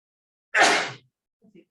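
A single loud, close sneeze bursting out alone in a quiet room during a math final review lesson, followed by a faint murmur.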